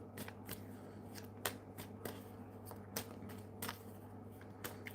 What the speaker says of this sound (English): I've already shuffled the cards.